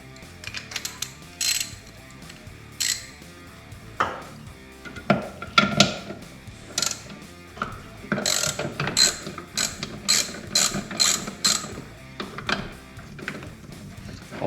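A ratchet works the 15 mm top-mount nuts off a Camaro's front strut in irregular bursts of rapid clicking, close and crisp, with pauses and metallic clanks between runs.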